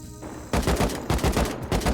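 An AK assault rifle fires in Rust, a short burst of about five rapid, loud shots after a brief quiet start.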